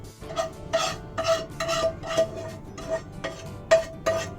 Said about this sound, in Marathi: हे रवा आपल्या एका प्लेटीमध्ये काढून घेऊया